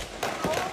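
Gunfire outside a bar in Austin, Texas: three sharp bursts land in quick succession within under a second, each loud and harsh, with no talking over them.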